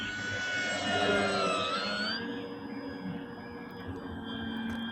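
An FMS Super Cub PA-18 1700 radio-controlled model airplane flies past, its electric motor whining loud and high, then the pitch drops as it moves away and settles into a steady drone.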